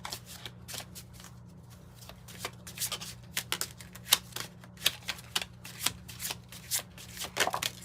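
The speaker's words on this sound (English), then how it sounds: "Let's have these cards going all over the place." Pulp Tarot cards are shuffled and riffled close up, with a crisp, irregular flurry of papery snaps and flicks that build in intensity, over faint steady background hum.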